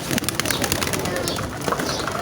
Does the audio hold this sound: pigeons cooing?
yes